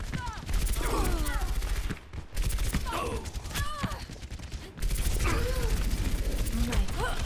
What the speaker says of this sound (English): Rocket barrage.